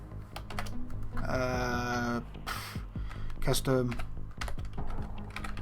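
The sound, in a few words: typing on a computer keyboard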